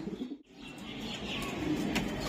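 Club-raced racing pigeons coo softly in a loft, low murmuring calls close by with a faint rustle of wings.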